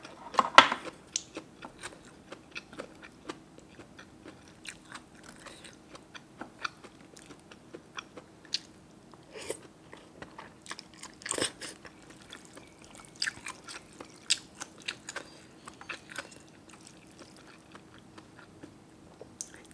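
Close crunchy biting and chewing of roasted chilies eaten whole alongside a spicy Thai noodle soup, with irregular crisp crunches and small mouth sounds throughout and no talk.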